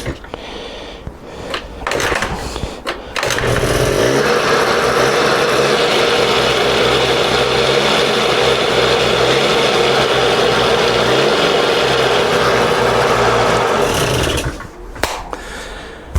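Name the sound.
small Honda scooter engine running and revving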